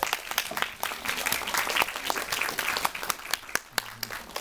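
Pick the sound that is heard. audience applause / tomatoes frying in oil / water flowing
audience applause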